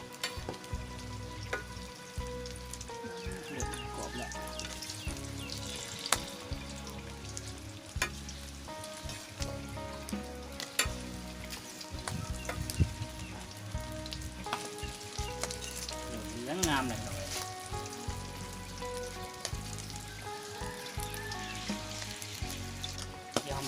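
A Thai omelette fries in hot oil in a pan on a gas stove, giving a loud, continuous crackling sizzle that stays up close throughout with scattered sharp pops, over steady background music.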